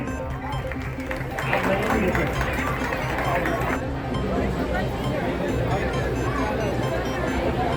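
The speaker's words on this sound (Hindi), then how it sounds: "जोरदार तालियों से स्वागत करें।" An audience at a community talent-honour ceremony applauds with sustained, dense clapping that fills the hall steadily throughout, with a faint crowd murmur underneath.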